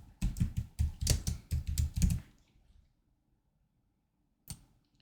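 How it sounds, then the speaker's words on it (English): Keys on a computer keyboard clatter in a quick, close run of a dozen or so taps, then stop, followed by one faint click after a pause. "I'll just type in a fictitious name."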